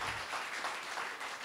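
A church congregation claps, a dense and fairly faint wash of applause that carries on evenly for a moment.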